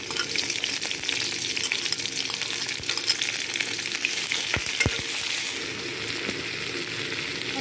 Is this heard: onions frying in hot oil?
yes